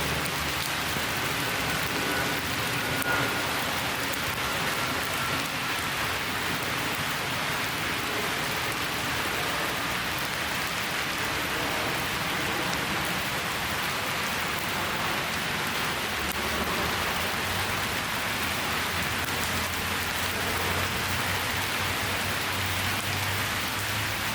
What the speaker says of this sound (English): A stroll with the rain.